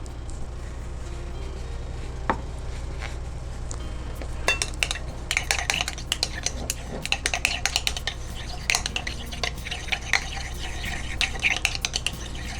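Guar gum hair gel being stirred by hand after preservative is added, giving soft clinking and scraping of a utensil against a container with irregular taps that grow busier over a steady low background hum.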